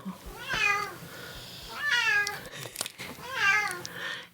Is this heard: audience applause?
no